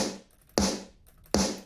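Two punchy, compressed layered snare drum hits, evenly spaced, each a sharp crack with a bright, noisy tail that decays quickly; no talking.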